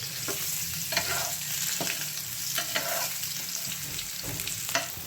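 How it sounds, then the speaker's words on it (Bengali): Potatoes frying in oil for chicken biryani, a steady hiss with intermittent spatula clicks and scrapes against the pan, close by and without any talking. "এখানে আমি বিরিয়ানিতে যে আলুটা দেবো সেটা কিন্তু আমি ফ্রাই করে নিচ্ছি।"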